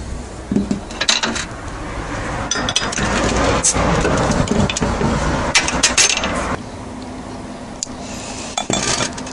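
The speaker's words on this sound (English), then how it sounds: "better get cracking on opening this one up and be pouring into this glass here" A bottle of Monteith's IPA is opened and poured into a glass, close and loud, with clinks of glass, a fizzing rush of liquid and a few sharp knocks, and no talking.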